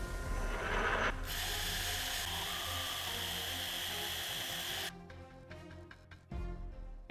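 A DIY CNC metal lathe machines a clearance cut for a key in a round holder: a loud continuous metallic cutting whine that stops abruptly, followed by a few quieter mechanical clicks and a short burst of motor noise.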